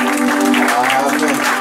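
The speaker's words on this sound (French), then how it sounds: "Donnons quand même une acclamation au Seigneur." In a church, a congregation gives the Lord an acclamation: a short, dense burst of applause with voices mixed in, steady and fairly loud.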